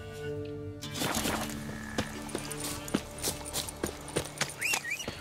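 Steady clip-clop of a horse's hooves galloping in The Witcher 3, a fairly quick, even rhythm of moderately loud hoofbeats with a brief whinny-like cry near the end.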